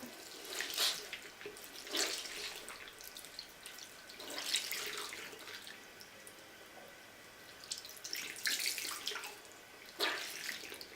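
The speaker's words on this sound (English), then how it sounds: "I'm going to squeeze it and then open it under the tap so it really fills up with water." Tap water running into a sink while a beauty blender sponge is rinsed, with splashing bursts that come and go, close and fairly quiet.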